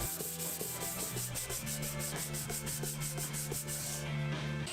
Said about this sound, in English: I really wanted to polish up the ends of the brass rod to get them nice and shiny, so I sanded at 120, 240, 400 and then 600 grit.